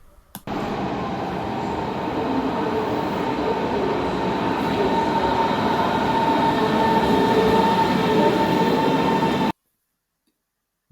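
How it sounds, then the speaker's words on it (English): Berlin S-Bahn commuter train riding, a steady loud interior rumble of wheels and motors with faint rail hum, continuous for about nine seconds before cutting to silence. "getting on the S trains, which go pretty far and wide"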